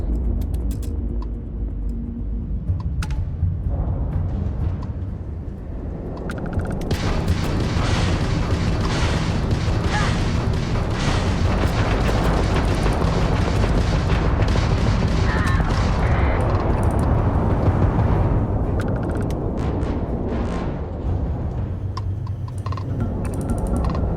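Spaceship weapons fire in Starfield as a dense, continuous roar of booms and blasts that builds after a few seconds and stays loud almost throughout, with little pause.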